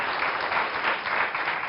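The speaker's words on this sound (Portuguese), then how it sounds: "Uma salva de palmas para o nosso convidado" Studio audience applause welcoming a guest on a television interview, a dense, continuous roar of many hands clapping at even loudness.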